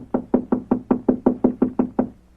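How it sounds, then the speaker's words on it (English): Knocking on a hotel room door, ten firm, evenly spaced knuckle raps in a steady rhythm, close and clear with no talk over them. "I'll knock again."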